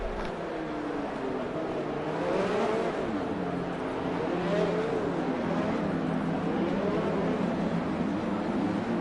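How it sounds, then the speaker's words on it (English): Formula 1 cars line up on the grid at the Bahrain Grand Prix in a racing video game, their engines droning and revving in rising and falling sweeps, loud and close, with no talk over them. "But they line up on the grid now, and we look to get underway for the Bahrain Grand Prix."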